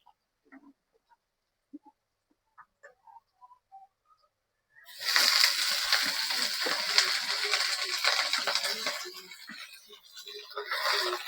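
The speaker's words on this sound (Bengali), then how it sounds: "তো এবার আমি ডাঁটা শাকগুলো দিয়ে দিব।" Stem amaranth greens drop into a hot pan and set off a loud, steady sizzle that starts abruptly partway through and keeps going, with faint handling sounds before it.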